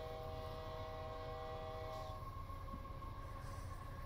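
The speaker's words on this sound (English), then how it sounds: "so I'm gonna start sounding the horn" Locomotive horn in Train Simulator 2021 on the CP Aldersyde route, a steady layered chord blaring loudly over the low rumble of the moving train for about two seconds, then the engine drone continuing alone.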